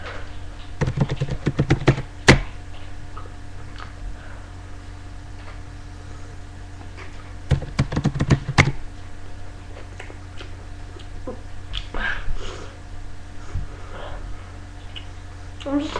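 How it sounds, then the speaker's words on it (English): Two short bursts of rapid key clicks, a couple of seconds each and separated by a long pause, set against steady low background hum. "Or it's my dad typing."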